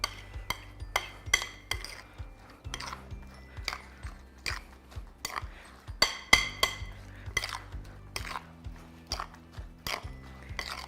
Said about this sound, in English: And get a spoon, mix it in a little better.